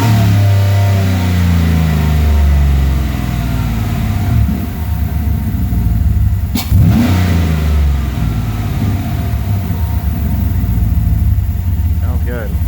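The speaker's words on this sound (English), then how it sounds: "I'll hit it up on the gas pedal real quick." A 2015 L83 V8 engine revved by the gas pedal, a steady loud idle rumble with a sharp blip of revs midway, then settling back, with someone talking at points.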